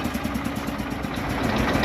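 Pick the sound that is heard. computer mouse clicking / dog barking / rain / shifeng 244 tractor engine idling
shifeng 244 tractor engine idling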